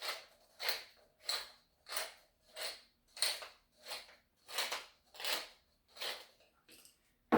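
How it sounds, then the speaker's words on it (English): A pepper mill grinding pepper over a dish of baked feta pasta, about ten evenly spaced rasping twists in a steady rhythm, close and clear with no talking. "we're going to add some pepper. You know, like a good grind all the way around"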